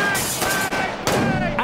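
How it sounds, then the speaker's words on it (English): Three loud, punchy comedic gunshots from a spoof kitchen cleaning product called Kitchen Gun, fired in quick succession, close and clear, each with a short ringing tail. "just three shots from Kitchen Gun"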